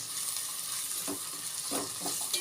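Curry leaves sautéing in hot oil in a pan for a fish curry, giving a steady close sizzle with a few soft stirring scrapes.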